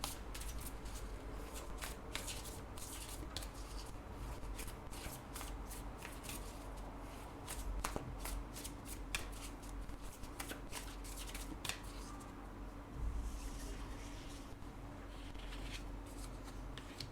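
Tarot guidance cards are shuffled steadily and up close for a horoscope reading, a dense run of crisp riffling and flicking snaps over a soft low hum, with no one speaking.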